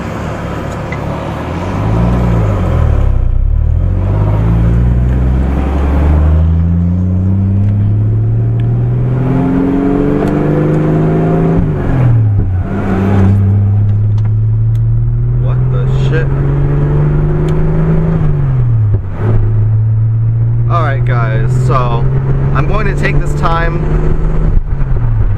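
A car drives along with its engine revving up and down in long rising sweeps, loud and continuous throughout, with a few brief high chirps near the end.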